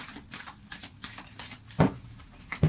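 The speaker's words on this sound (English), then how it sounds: "So I'll just do a final shuffle of the Fairy Oracle." Fairy Oracle cards are shuffled by hand in a series of quick, crisp riffling flicks and soft slaps, with a couple of sharper card knocks near the end, close up and without speech.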